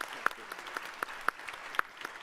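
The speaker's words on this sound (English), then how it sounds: "Look at my mother clapping." One person clapping at a forum event, a brisk, regular series of sharp hand claps heard fairly close over a faint room murmur.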